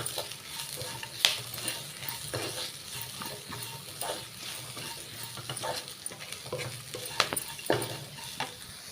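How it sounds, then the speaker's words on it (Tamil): Drumstick leaves and coconut are stirred in a pan, giving a soft continuous sizzle with scattered sharp scrapes and clinks of a spatula against the pan. "பாருங்கள் முருங்கைக்கீரை வந்து நல்லா சுருளை வதக்கியாச்சுங்க"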